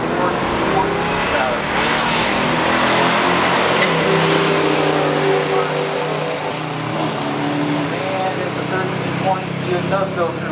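A 1970 Buick GSX with a 455 automatic lines up against a 1971 Plymouth Duster at a stock drag race, loud continuous engine roar filling the scene, with a voice talking over it throughout.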